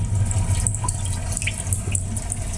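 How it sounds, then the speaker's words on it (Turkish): A rain nature sound played through a Hyundai i20's car audio system: continuous patter of water, like steady rain or running water, with scattered drips over a low hum, fairly loud and close. "Doğa sesleri. Mesela neler var? Şöyle bir yağmurlu bir gün."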